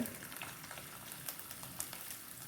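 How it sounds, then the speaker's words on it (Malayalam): Ginger frying in coconut oil in a pan for chicken curry, a soft continuous sizzle with light crackles, faint and steady with no talk. "കൂട്ടിനുള്ള വെളിച്ചെണ്ണ ഒഴിച്ച് അതിലേക്ക് ഇഞ്ചി ഇട്ട്"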